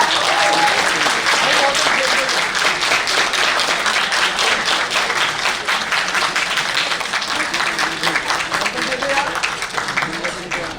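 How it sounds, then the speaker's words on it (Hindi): A crowd at a faculty of the year event keeps clapping steadily and loudly, a thick, continuous wash of hand claps that tapers a little near the end while someone talks over it. "तालियां बजती रहनी चाहिए प्लीज."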